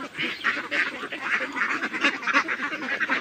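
Ducks feed on paddy in the evening, a steady busy chorus of close quacking and dabbling with no pauses.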